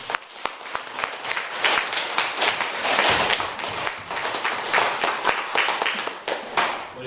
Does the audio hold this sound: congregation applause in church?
yes